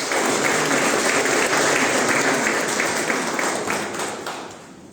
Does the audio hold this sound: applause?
yes